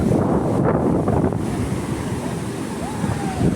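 Ocean surf rolls and crashes onto a beach near Chikmagalur and Mangalore, a steady close roar of breaking waves with wind buffeting the microphone throughout.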